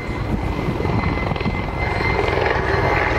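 Mi-24 military helicopter at the Gdynia Aerobaltic 2021 air show, a loud, steady rotor and engine roar with rapid chopping pulses, close and continuous throughout.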